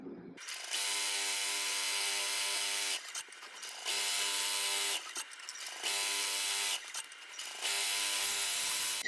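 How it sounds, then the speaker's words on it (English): An embroidery machine stitches an applique on minky fabric, a close, loud, buzzing mechanical whir running in long bursts separated by brief pauses as the needle stops and starts. "And now we are ready to stitch."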